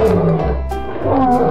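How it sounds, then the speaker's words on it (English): A lion roars loudly and close, a deep, sustained, rumbling roar that fills the clip alone with no talk. "Lion."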